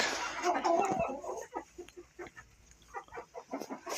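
Chickens and chicks cluck nearby in a coop, a run of short, repeated clucks and soft peeps at moderate loudness.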